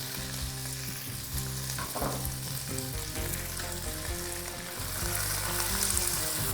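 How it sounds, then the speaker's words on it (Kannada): Sliced onions frying on a high flame for veg pulao, a continuous dense sizzle with occasional stirring, and some background music or tonal hum underneath. "ಈರುಳ್ಳಿನ ಹೈ ಫ್ಲೇಮಲ್ಲಿ ಟ್ರಾನ್ಸ್ಲೂಸೆಂಟ್ ಆಗೋವರೆಗೂ ಅದನ್ನು ಫ್ರೈ ಮಾಡ್ಕೊಳ್ಳೋಣ"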